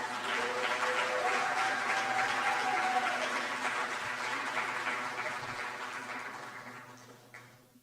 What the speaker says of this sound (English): But a round of applause for them anyways.